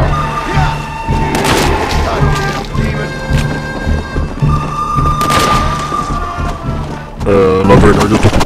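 Video game gunfire in a zombie apocalypse drama crashes out in loud booming shots and bursts over tense background music, with a voice speaking between the blasts.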